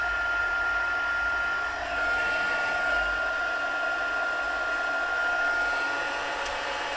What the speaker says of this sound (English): heat gun on